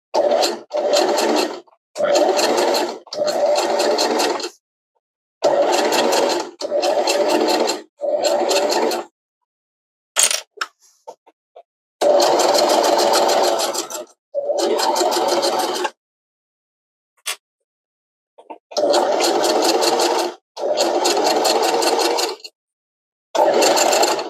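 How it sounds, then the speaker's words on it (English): A sewing machine stitches a curved seam on a gathered summer skirt, running in loud, close bursts of a few seconds each with short silent pauses between them. "So as I'm sewing, I'm trying to also go with the curve to keep it at the 5/8 of an inch line."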